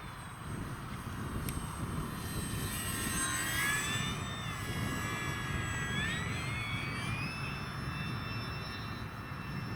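An Arrows Hobby P-51D Mustang 1100mm radio-controlled WW2 fighter flying in wind, its electric motor whining steadily and its pitch shifting as it passes over a continuous rush of wind noise.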